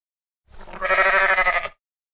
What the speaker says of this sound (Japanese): 羊